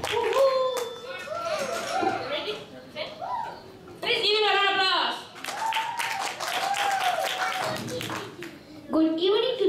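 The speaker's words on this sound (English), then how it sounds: "Please give him a round of applause." Applause from parents and guests at a children's English program held in a hotel, with scattered clapping mixed with cheering, chatter and children's voices that keep talking over the claps.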